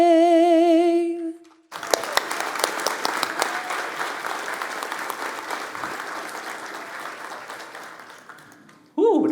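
An audience applauds after a live national anthem performance by Amber Franson at a dentists' summit, steady loud clapping from a large crowd sustained for several seconds after the final sung note fades, then tapering off.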